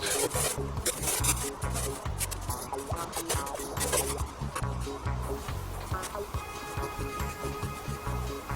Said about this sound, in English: some more rust being removed.